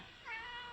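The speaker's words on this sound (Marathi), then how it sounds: "कसं ओरडतं मांजर" A single short cat meow, rising then trailing off, faint and close with no talking.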